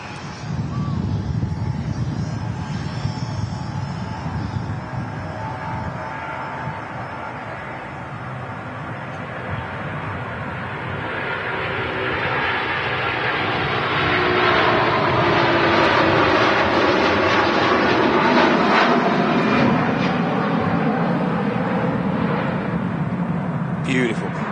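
A Virgin A330 airliner departs Manchester Airport, its broad engine roar swelling steadily and holding loud toward the end, with a voice talking over it in places.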